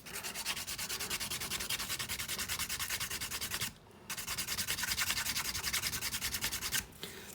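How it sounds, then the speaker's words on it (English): Rapid, steady rasping of a file on a plastic Hot Wheels car part, close and loud, running continuously with two brief pauses. "Some Hot Wheels plastics don't like being filed or sanded."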